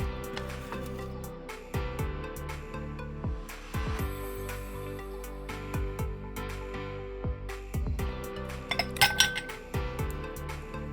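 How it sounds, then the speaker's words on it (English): Ice cubes for a basil cocktail clink and rattle against glass in repeated sharp, close knocks, steady throughout with no talk. "the first thing we're going to start with are the ice cubes"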